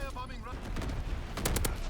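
A light machine gun firing in Call of Duty WWII: a rapid burst of close, loud shots toward the end, over a busy rumbling battlefield, with a brief voice heard near the start.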